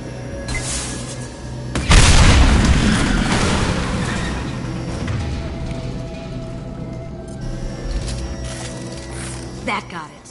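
Tanks explode in the video game Mass Effect 2 with a single loud boom about two seconds in that rumbles and slowly decays, among quieter game effects before and after.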